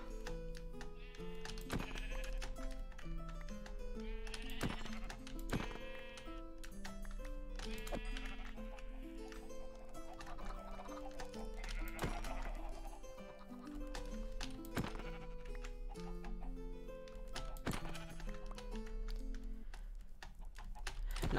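Sheep bleat repeatedly in a Minecraft stable, several nasal calls overlapping and spaced across the stretch, with hoof-like clops and occasional horse-like snorts mixed in, no talking.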